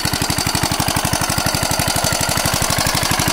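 A small old shallow-well water pump engine, a diesel-style 'shallow engine', runs close by with a loud, fast, steady thumping beat and mechanical clatter, unchanging throughout.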